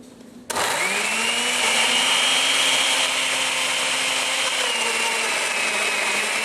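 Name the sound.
kitchen blender running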